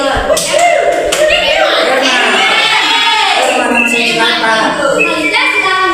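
Children clap along to the Zacchaeus clapping song in a classroom, with rhythmic claps mixed under singing and a teacher's voice, with some crowd chatter.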